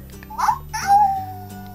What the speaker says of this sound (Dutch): Blafhuil.